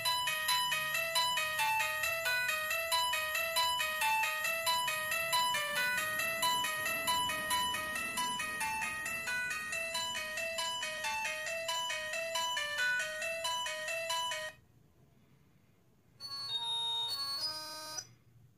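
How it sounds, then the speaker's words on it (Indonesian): A bright, melodic electronic incoming-call ringtone from a Ti.phone T58 QWERTY phone plays loudly and continuously, a repeating chiming tune that cuts off briefly, then resumes for a few more seconds. "Nah, yang satu ini keren nih buat dipakai buat nada panggilan masuk."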